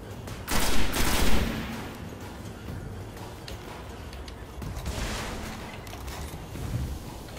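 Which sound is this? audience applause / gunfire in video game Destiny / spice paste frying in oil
gunfire in video game Destiny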